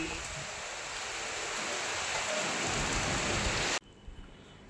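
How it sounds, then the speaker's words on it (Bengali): Heavy rain driven by strong wind during a storm, seen from a balcony toward distant trees: a dense, steady roar of downpour and gusts that fills the scene, then cuts off abruptly near the end to quieter surroundings. "জোরো হাওয়া তার সাথে বৃষ্টি"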